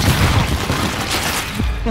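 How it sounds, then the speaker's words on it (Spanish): Firework-like explosions in the video game The Evil Within 2 form a loud, dense barrage of booming, crackling bursts that overlap continuously throughout. "Fuegos artificiales, tío."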